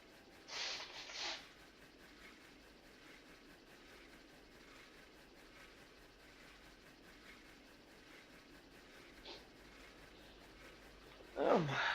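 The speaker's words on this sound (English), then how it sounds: "I might just blow my nose quickly." Two short bursts of nose blowing into a tissue early on, then a quiet stretch with a faint later puff and a rustle at the end.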